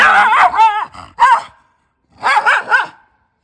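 A German Shepherd barks close by in several quick, high-pitched bursts with short pauses between, then a final run of three sharp barks.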